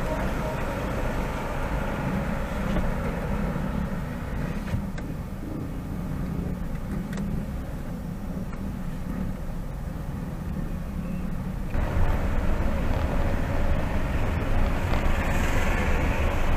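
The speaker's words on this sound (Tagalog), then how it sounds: "Tingnan naman ang traffic." Steady road traffic rumble heard from inside a Grab ride-hailing car driving in Batangas, a continuous engine and road drone that grows louder near the end.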